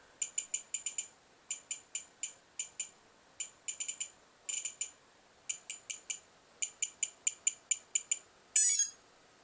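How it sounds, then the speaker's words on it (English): Castle Creation RC speed controller emitting a long series of short, clipped electronic beeps in quick clusters of two to four, pausing between groups, ending in a louder sustained tone; close and clear with no talking. "So just waiting for a beep."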